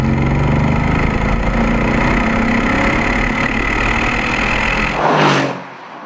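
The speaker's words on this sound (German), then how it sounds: "Und man kann schön den sonoren AMG-Sound genießen." A Mercedes S 63 AMG long-wheelbase all-wheel-drive sedan with the exhaust flap open gives a loud, deep, sonorous engine drone that holds steady, then swells in a brief rev before dropping off.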